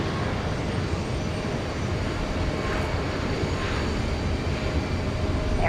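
An airliner at Houston Intercontinental airport gives off a steady, dense jet-engine roar. The rumble is continuous and fairly loud, without clear rise or fall, and no voices are heard.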